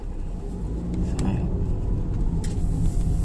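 A 2022 Perodua Myvi facelift drives along a bypass road on a test drive, producing a steady low engine and road rumble inside the cabin, with faint clicks over the continuous noise.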